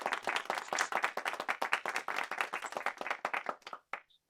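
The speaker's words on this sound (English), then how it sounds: "please join me in thanking and applauding Allison Mitchell" An audience claps for lecturer Allison Mitchell after a voting-rights history lecture, a dense, steady patter of many hands that carries on for several seconds before thinning out and stopping.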